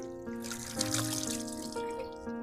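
Water is poured over someone during a plain bath without soap, a soft, steady splashing and trickling stream that stays faint and close for a couple of seconds.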